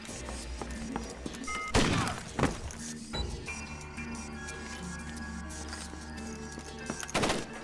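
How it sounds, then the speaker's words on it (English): A 12-gauge shotgun attachment firing triple-aught buckshot in Splinter Cell: Chaos Theory, with a few sharp, heavy blasts spread across a stretch of mechanical background noise. "The shotgun attachment fires a 12-gauge shell loaded with triple-aught buck."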